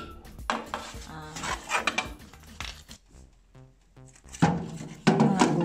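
A pan of vegetables is handled and pushed into a wood-fired oven, giving clattering metal knocks and scrapes in uneven bursts, close and fairly loud, with a heavier clank near the end.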